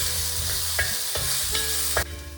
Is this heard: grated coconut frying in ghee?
yes